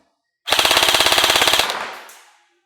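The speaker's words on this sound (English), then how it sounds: "And now full auto at the gearbox." A Specna Arms Edge airsoft rifle fires a full-auto burst, recorded close at the gearbox: a rapid, loud, even buzz of about twenty shots over one second, trailing off in a brief mechanical whir.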